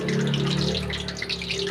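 Hot cooking oil crackles and spatters in a freshly washed pan still wet with water, a dense, steady sizzle with bursts of popping, close and loud throughout.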